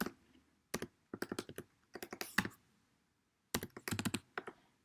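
Someone types on a computer keyboard to enter host details, producing quick bursts of close, crisp key clicks separated by short pauses in a quiet room.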